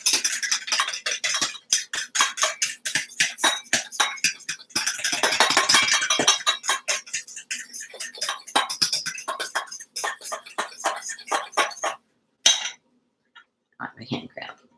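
A spatula repeatedly scrapes and slaps through thick cookie dough in a bowl, with quick rhythmic strokes that pause and resume, growing sparser toward the end.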